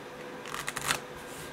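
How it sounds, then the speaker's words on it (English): Blackjack playing cards are riffled by hand in a quick, soft burst of papery flutter, close and fairly quiet, lasting about a second. "So effectively, you have shuffled the cards"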